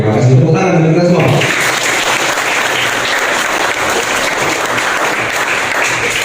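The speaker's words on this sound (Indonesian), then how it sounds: "tepuk tangan untuk kita semua." Audience applause at a student-run drug and juvenile delinquency awareness session, loud continuous clapping from a large group after a short burst of speech at the start.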